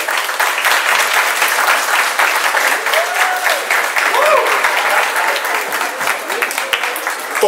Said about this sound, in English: Students, please join me in giving a loud round of applause to this group.